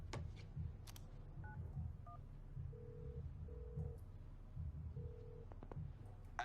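A phone dials in the FIFA 19 video game, with a few short keypad beeps followed by longer ringing tones over a low background murmur and occasional clicks, without talking.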